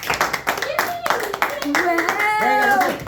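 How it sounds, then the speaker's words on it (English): An audience claps in a round of applause at a live Talmud review class, with rhythmic clapping mixed with loud overlapping voices calling out and cheering throughout. "Round of applause for the audience."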